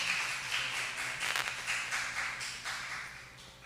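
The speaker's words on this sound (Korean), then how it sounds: "우리 선교사님 뜨겁게 환영의 박수로 맞이하도록 하겠습니다" A church congregation claps to welcome a missionary at a Sunday service, a fairly faint, steady patter of applause from many hands that thins out toward the end, heard alone with no voices.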